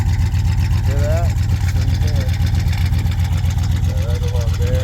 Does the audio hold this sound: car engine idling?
yes